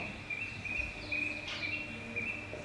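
Birds sing outdoors on the Mount of Olives during an Easter play: a faint, steady high whistle with a brief brighter chirp midway, alone over low ambient hum.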